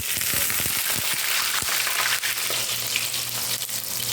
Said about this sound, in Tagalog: Prito ko yung talong. Tumatalsik-talsik kasi may tubig.